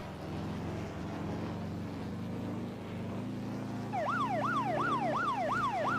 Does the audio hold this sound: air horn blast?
no